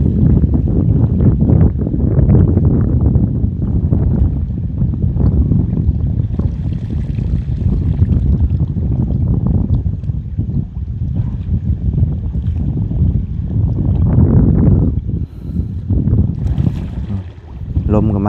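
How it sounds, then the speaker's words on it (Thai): Strong wind blows outdoors beside water, buffeting the microphone with a loud, continuous low rumble that surges and eases throughout, with faint water movement beneath. "ลมก็มาแล้วบัดนี้"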